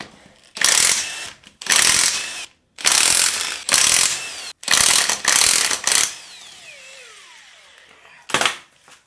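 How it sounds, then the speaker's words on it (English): A power tool zips off the lug nuts and spacers from a wheel on an ML55 W163, in a series of loud, rattling impact bursts separated by short pauses, with one final short burst after a gap. "First thing I want to do is start getting the wheels and the spacers off. So we're just going to whiz all those off"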